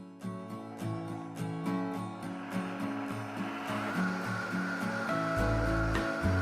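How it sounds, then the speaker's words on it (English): A blender motor whirs on high, blending soup, building in intensity beneath background music, its steady roar growing louder toward the end. "Blend on high until completely smooth."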